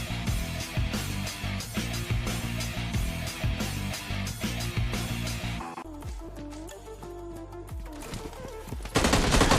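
M16 rifle gunfire in a battle royale video game, with rapid bursts of automatic shots that run densely and loudly and nearly without pause, over in-game ambience, before a harsher burst at the very end.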